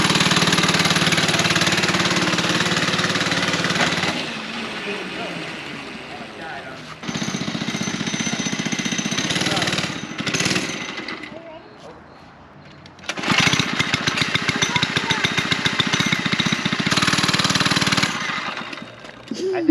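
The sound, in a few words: Baja Doodlebug mini bike engine running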